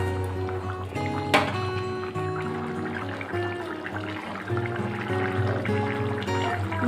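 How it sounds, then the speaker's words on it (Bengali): Curry broth with raw jackfruit boils hard in a pan over a raised gas flame, producing continuous close bubbling and simmering over a steady background of tones. "ঝোলটা ভালো করে ফুটে গেছে,"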